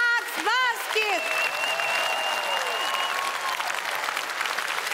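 A studio audience at a televised comedy show claps loudly and continuously after a brief call from a host, with a few whoops and cheers rising over the sustained applause.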